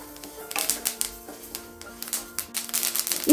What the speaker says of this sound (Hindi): इसमें से काफ़ी बढ़िया से चुटपुट की आवाज़ आ रही है।